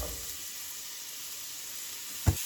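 Onions sizzling in a simmering sweet potato curry pan, a steady close hiss of frying with one brief soft knock near the end, no voices heard.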